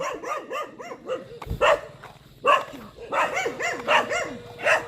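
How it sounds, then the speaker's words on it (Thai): A dog at a rural house where a stray wild boar has wandered in barks and yelps repeatedly in an irregular series, at moderate distance over steady background noise. "แล้วก็มีหมาเห่านิดหน่อย"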